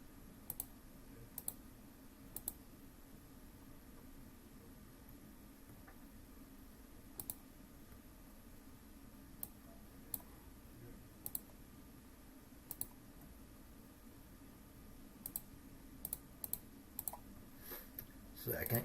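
Keys being typed on a computer keyboard while entering four numbers into a 2 by 2 matrix, heard as sparse, quiet clicks scattered over a steady low background hum.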